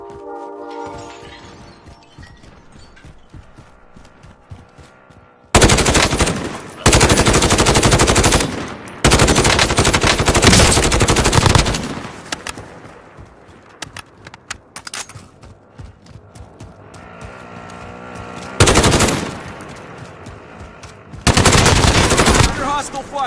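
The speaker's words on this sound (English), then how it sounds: "Under hostile fire!" Loud automatic gunfire in a shooter video game, with long roaring bursts of machine-gun fire broken by short quieter gaps and scattered lighter shots and clatter between them.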